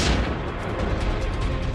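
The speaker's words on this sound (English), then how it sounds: "The bag bomb is totally and safely ripped apart." A bag bomb is blown apart in a controlled explosion, a heavy, loud, continuous roaring blast with broadband rumble that fills the whole stretch, with no voices.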